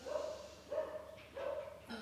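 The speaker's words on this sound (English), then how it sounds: "that's my dog" A dog barks in a repeated series of muffled, somewhat distant woofs, evenly spaced, with no one talking.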